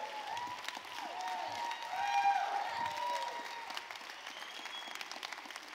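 Audience applause at a keynote event, a sustained, moderately distant wash of clapping that swells slightly in the middle, with some voices and reverberant hall sound.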